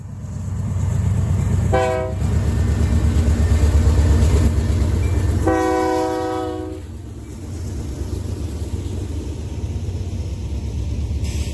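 A westbound train passes through Willmar, Minnesota, with a heavy rolling rumble, two loud horn blasts, the first short and the second longer, then the rumble eases to a quieter steady rail noise.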